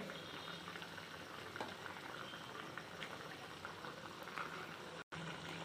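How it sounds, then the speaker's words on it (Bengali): Water for an egg and potato curry bubbles at a steady boil in a pot, a soft, even rolling gurgle heard alone that cuts out briefly near the end. "জলটা ফুটে গেছে, এবার ভেজে রাখা ডিমগুলো দিয়ে দেব।"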